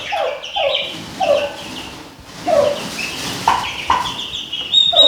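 Chickens and turkeys cluck and call in a farmyard flock, with repeated short squawks and gobbling notes overlapping one another at close range. No one speaks.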